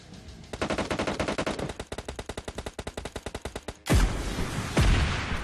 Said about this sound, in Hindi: RPG दगाते हैं बंदों के मुंह पे